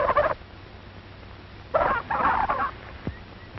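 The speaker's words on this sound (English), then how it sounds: "He hears a turkey gobbler who flew over the fence of the turkey yard." A turkey gobbler that flew over the fence of a farm turkey yard gobbles in short rattling bursts at moderate distance, with brief gaps between calls over faint background noise.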